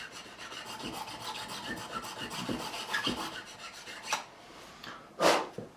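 A file rasps along the binding edge of a 1973 Gibson Les Paul Custom, giving repeated short scraping strokes up close, ending in two louder sharper rubs.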